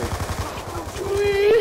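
Rapid automatic gunfire rattles from a gun in a zombie video game, a fast close burst of shots under excited talking.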